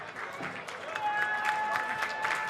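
Stadium crowd at a women's football match between Canberra United and Wellington Phoenix applauding steadily as a player marks her 200th appearance, a broad wash of clapping under faint commentary tones.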